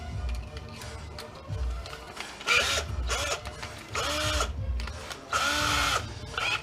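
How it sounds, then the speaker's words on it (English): Screws are backed out of an old electric coil-burner stove with a 6-in-1 screwdriver, producing repeated close bursts of squeaky, grinding turns separated by short pauses, and no speech. "The 6-in-1 screwdriver."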